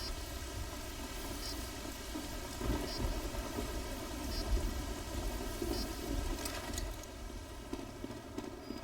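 Steady rain in Team Fortress 2 hisses throughout with a low rumbling undertone, broken by a few brief louder bursts near the middle and end.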